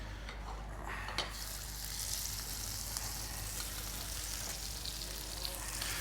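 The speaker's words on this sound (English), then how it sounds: "You need the sizzle." Fish hits a very hot frying pan during a chef's cooking demonstration at a food festival, giving a loud, steady, close sizzle with a few sharp clinks of stirring and pan handling throughout.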